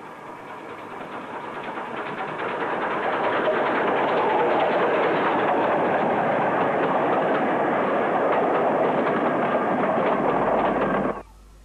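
British Railways Standard class 82031 steam locomotive arriving at Fairbourne's single-platform station from Barmouth, a steady loud rumble and rolling wheel noise building over several seconds, holding near and constant, then cutting off abruptly.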